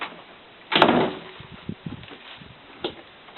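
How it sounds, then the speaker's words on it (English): A single loud door slam at a home, a sharp thud with a short rattle, followed by quieter knocks and handling sounds. "Take a step back and then slam the door like you're angry."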